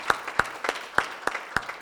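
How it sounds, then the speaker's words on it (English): Scattered, evenly spaced hand claps from a small conference audience in Queens, New York City, a sharp clap roughly every third of a second, fairly close and with no voices. "Let's clap for who put this together."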